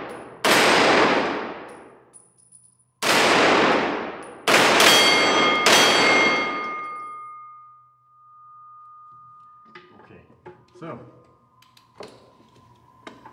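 Several loud gunshots fired at a target under night conditions, three sharp cracks in quick succession with long ringing decay, followed by scattered faint clicks and clatter.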